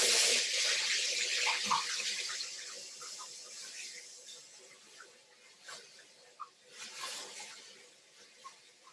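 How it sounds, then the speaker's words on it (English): Hands being washed under a running kitchen tap, a soft steady hiss of water that fades gradually, with faint splashes and small clatters near the end. "I'm gonna wash my hands"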